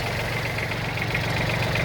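A Kubota Aste A155 mini tractor's three-cylinder diesel engine idles steadily with a low, even chugging rumble and slight knocking, close by and continuous.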